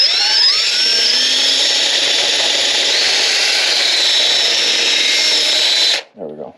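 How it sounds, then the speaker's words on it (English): A power drill whines steadily and loudly for about six seconds, backing out a steering wheel screw beside the airbag of a Lexus ISF, then stops abruptly, leaving a brief low rattle. "So I'm letting the drill do its job."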